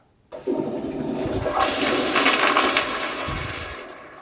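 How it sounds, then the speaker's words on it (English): A toilet flushes nearby, a sudden loud rush of water that swells and roars steadily for several seconds before slowly easing off. "I conserve by only flushing the toilet once."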